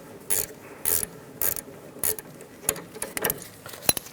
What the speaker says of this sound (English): I'm going to take a wrench, preferably a ratchet wrench, and a 5mm hex key